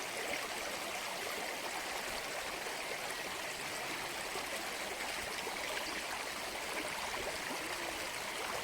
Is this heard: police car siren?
no